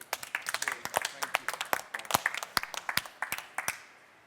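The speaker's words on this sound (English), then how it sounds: "Give him a clap, shall we?" A live audience at a talk-show event claps for about four seconds, sharp separate claps in a quick uneven rhythm, fairly near, with no voices over it, tailing off at the end.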